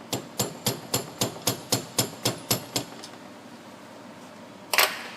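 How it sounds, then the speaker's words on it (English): A screwdriver taps a part of a Ford A/C compressor clutch into place. About eleven sharp, evenly spaced metallic taps come close together, then a pause, then one brief final clatter. "you could take a screwdriver and tap it in a little bit at the ears"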